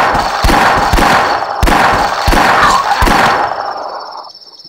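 Gunfire in the video game The Last Stand comes as loud, close bursts of repeated shots, four or five sharp reports spaced roughly evenly and each trailing into a ringing tail that fades at the end.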